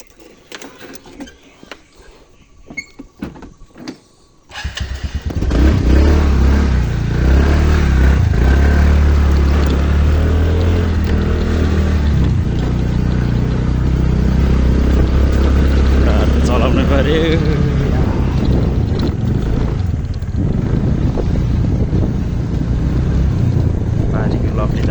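A scooter ridden on a road near Pokhara: after a short stretch of talk, the engine hum and rushing wind noise fill the rest of the ride, loud and steady, with voices partly buried under it.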